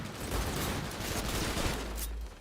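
Sustained rapid gunfire from a first-person shooter video game, a dense, continuous clatter of shots that stays loud and steady for over two seconds before easing off, with no talking.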